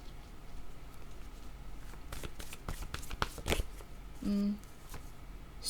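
Tarot cards being shuffled by hand, a quick run of soft riffling flutters and crisp card snaps up close, followed by a brief tonal beep.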